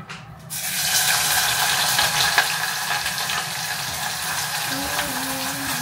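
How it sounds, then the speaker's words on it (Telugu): Chopped onions frying in hot oil for homemade haleem give a steady, dense sizzle that swells right after they hit the pan and holds close and loud, with a faint tonal whine near the end. "ఇప్పుడు ఇందులో ఆయిల్ వేడి అయ్యాక ఆనియన్స్ వేసుకోండి"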